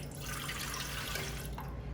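Half a cup of warm water mixed with half a cup of half and half is poured into a bread machine pan, a steady close splashing and trickling stream with no voices.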